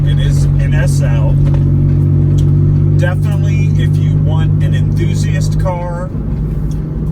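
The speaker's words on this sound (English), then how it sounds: "Right now we have the sunroof open so we can hear the exhaust." Mitsubishi 3000GT SL with a 5-speed manual, its exhaust heard through an open sunroof while driving: a steady low engine drone runs beneath someone talking continuously.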